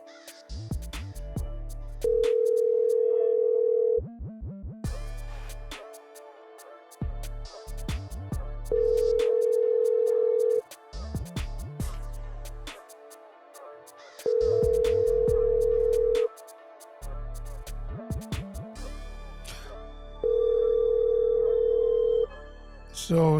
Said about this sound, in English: You can hear it ringing.